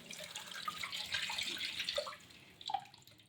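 Running water pours and splashes steadily over snake plant roots being rinsed upside down, close and moderately loud, with small drips and gurgles near the end.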